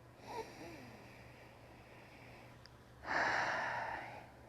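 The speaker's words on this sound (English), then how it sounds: "Take a sniff of your tea or coffee." A person takes two audible sniffs of a cup of tea or coffee, a short one near the start and a longer, louder inhale a few seconds later, close and quiet.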